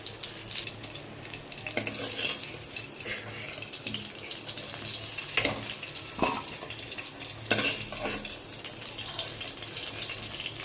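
Potatoes frying in a pan on a home stove, a continuous close sizzle with a few sharp clatters and bursts of louder spitting scattered through it.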